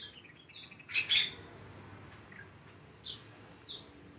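Small birds chirp in an aviary enclosure, with a few short, bright tweets scattered at intervals, a louder cluster near the start, over quiet background.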